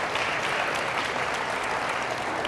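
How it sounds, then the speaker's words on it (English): Audience applause at a Catholic high school leadership talk, a bright continuous spread of many hands clapping in a hall, even and sustained with no speech. "give a round of applause for that"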